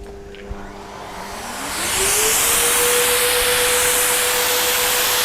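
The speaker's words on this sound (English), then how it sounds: "So here I have my blow air dryer, and I'll flick that on." A blow air dryer used to dry a car spins up from a low whine to a loud, steady rushing hiss at near maximum power, close by with no voices.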